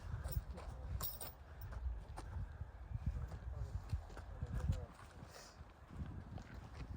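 Hooves of Polish mares clop at an unhurried walking pace, soft and somewhat distant, with faint murmuring voices in the background.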